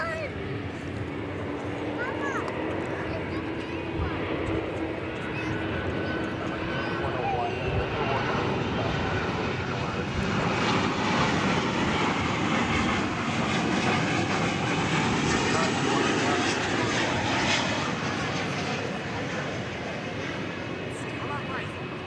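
An airliner at DFW begins its takeoff run bound for London, a broad, steady engine roar building and sustained throughout, with a voice talking over it.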